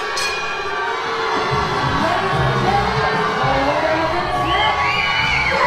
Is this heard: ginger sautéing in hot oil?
no